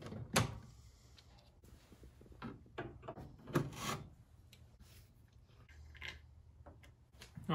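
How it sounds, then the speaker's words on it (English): Work on the interior door panel of a 1973–1979 Ford F-series pickup, with quiet scattered plastic and wood-like knocks, rubbing and scraping handling sounds spread across the clip, a few sharper clunks standing out, and no speech. "I'm going to go ahead and start with getting the door panel disassembled"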